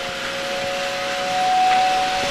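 A model train's steady, piercing steam-style whistle sounds continuously with a faint hiss beneath it, swelling slightly in loudness before holding steady.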